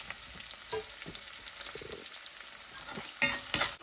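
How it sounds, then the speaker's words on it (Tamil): Onions and curry leaves sizzle steadily in hot oil, a soft crackling hiss with a few sharper pops and a stir near the end. "அந்த வெங்காயமும் கருவேப்பிலையும் போடுறேன்"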